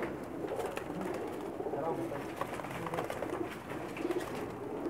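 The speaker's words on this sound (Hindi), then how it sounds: "ये सब बाजी में उड़ने वाले कबूतर हैं जी इनके।" Pakistani high-flying pigeons on a rooftop coo softly and continuously, several birds calling at once at close range, with low background noise.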